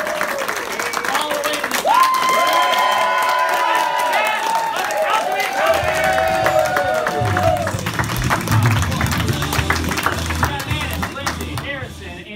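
Audience at a live monologue show claps and cheers excitedly, a loud sustained wave of applause with whoops and voices ringing over it, thinning slightly toward the end.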